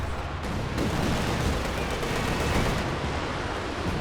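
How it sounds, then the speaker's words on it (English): Dense, continuous barrage of rockets and artillery fire in Company of Heroes 2 battle, loud overlapping blasts and whooshes filling the whole stretch with no pauses. "Rockets flying in both directions."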